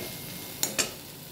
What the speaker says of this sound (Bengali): পোস্তটাকে এই পেঁয়াজ টমেটো সমস্ত কিছুর সঙ্গে আর মশলার সঙ্গে ভালো করে মিশিয়ে একটু ভাজা ভাজা গন্ধ আসবে